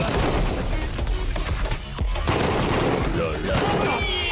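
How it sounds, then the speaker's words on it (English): In a chaotic meme-style shooter game, a grenade goes off amid dense, continuous gunfire, with loud overlapping blasts and crackling shots throughout. "Oh, grenade."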